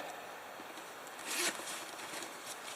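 A zipper on a hiking gear pocket is pulled open in one quick rasping stroke, close and fairly quiet against a faint background hush.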